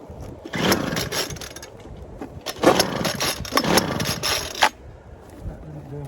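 A transplanted two-stroke engine being pull-started on full choke: several rasping bursts of recoil cranking and sputtering without catching, separated by quieter pauses.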